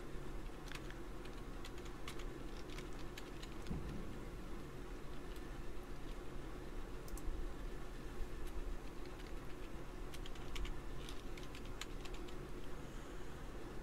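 Typing a password on a computer keyboard during a MySQL setup on a computer, faint scattered key clicks over a low steady background hum, quiet and irregular.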